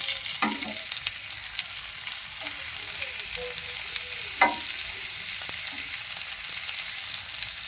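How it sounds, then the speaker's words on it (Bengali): Chicken pieces for restaurant-style tandoori chicken, fried in a pan: a steady hiss of hot oil runs throughout, with a couple of sharper clatters or pops near the start and midway, and no talking. "এবার আমি আগে ভেজে রাখা চিকেনের পিসগুলো এক এক করে দিয়ে দেবো"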